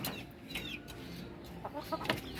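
Several chickens cluck and squawk in short, irregular bursts, fairly close, with a soft busy background and no talking.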